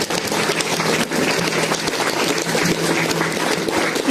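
Church congregation clapping together during a worship service, a dense, loud, continuous patter of many hands with no talking on top.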